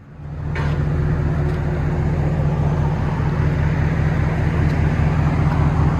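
A 1996 Buick Roadmaster wagon's LT1 5.7L V8 idles steadily through Flowmaster 40 mufflers, giving a deep, even, loud rumble that holds close and constant with no talk over it.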